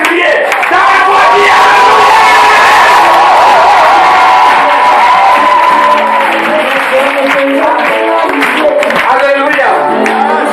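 A church congregation at a worship service shouts praise together in a loud, sustained crowd roar, many voices rising and swelling with scattered clapping, dense and close throughout.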